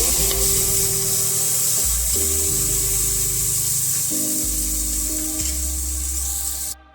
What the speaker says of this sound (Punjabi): ਹੁਣ ਆਪਾਂ ਪਿਆਜ਼ ਪਾ ਦਾਂਗੇ ਪਿਆਜ਼ਾਂ ਨੂੰ ਵੀ ਭੁੰਨ ਲਵਾਂਗੇ